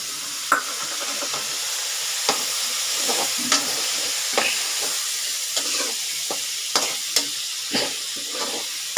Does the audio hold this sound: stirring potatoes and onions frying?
yes